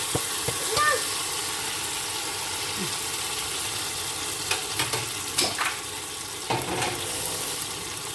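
Ground ridge gourd chutney paste cooks in a hot pan with a steady low sizzle and occasional stirring clinks and scrapes throughout.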